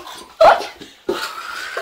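A dog being taken out for a walk gives two short whimpering whines separated by a brief pause, close to the microphone, with no talking.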